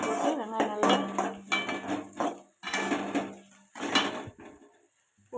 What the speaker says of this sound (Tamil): அடுத்தது நம்ம வந்துங்க வெங்காயத்தை போடலாங்க